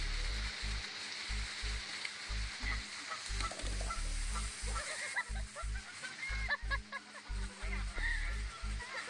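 A goose honks repeatedly in a steady series of calls, set over a busy outdoor background of splashing and low rumbling thuds from a confrontation with a gorilla.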